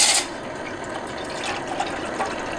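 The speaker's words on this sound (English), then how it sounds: "Let's get some water in the big Canteen cup and we'll start our double boiler system" Water pours into a large canteen cup for an outdoor double boiler, a brief louder splash at first, then a steady, faint trickling fill with small drips and metallic clinks.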